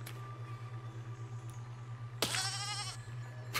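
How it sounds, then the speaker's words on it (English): A single sheep bleats in the physics building game Besiege, a wavering cry lasting about a second, heard over a steady low hum of background game audio. "Oh my god, a sheep just got slaughtered."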